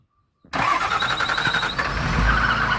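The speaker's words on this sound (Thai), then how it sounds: "เดี๋ยวมาฟังเสียงเครื่องกันครับพี่น้องเดี๋ยวโศกไทยสตาร์ทให้เบิ้งเลยพี่น้อง" A Hino six-wheel dump truck engine cranks and catches after a half-second of near silence, then runs loud and close with a throbbing diesel rhythm, revving up with a deepening rumble toward the end.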